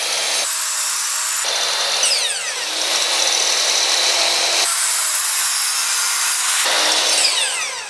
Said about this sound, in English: Let the blade spin up.